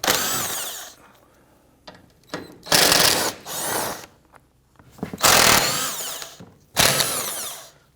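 A power tool loosens and removes 12mm bolts on a 2011-2015 Kia Sorento with a 2.4 engine, giving several loud, close bursts of whirring drive separated by short quiet gaps and small clinks.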